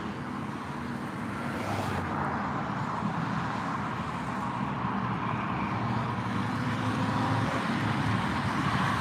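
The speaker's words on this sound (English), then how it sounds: "Interstate's particularly loud today." Heavy, continuous traffic roar from a nearby interstate highway, a dense steady wash of tyre and engine noise with no breaks, heard outdoors on an evening walk.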